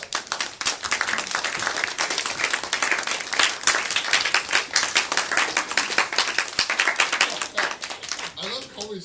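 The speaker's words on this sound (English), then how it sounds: "I love Coley's clapping volume." Audience clapping at a youth group awards night, dense and lively hand claps filling the room for several seconds before tapering near the end, with a voice briefly audible as it fades.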